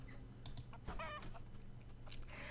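Hen in the farming video game Big Farm Story giving a short burst of soft clucks amid light clicking, all faint and quiet.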